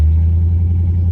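Off-road rig engine giving a brief low rumbling rev, close and steady for about a second with no voices.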